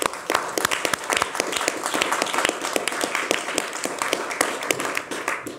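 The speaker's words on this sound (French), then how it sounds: "On peut les applaudir" A studio audience at a French television show gives sustained applause, with many sharp individual claps standing out over a brisk, uneven patter heard close and clear throughout.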